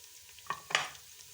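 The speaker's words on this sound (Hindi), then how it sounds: "लहसुन अदरक हमारा फ्राई हो गया।" Garlic and ginger frying with whole spices (cardamom, cloves, cinnamon, black pepper) in a pan for aloo chicken: a soft background sizzle broken by two brief bursts of stirring, faint and close, with no talk.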